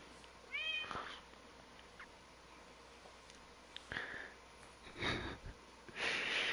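An older female house cat gives a short meow early on. It is followed by soft sniffs and breathy snorts close by, with a few louder noisy bursts toward the end.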